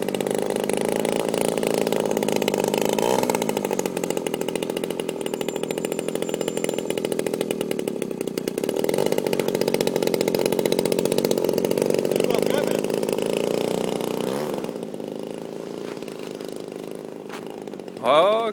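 Model airplane engine runs at a loud, high-pitched continuous whine with slight pitch rises as it accelerates, close by and outdoors, with people talking over it near the end.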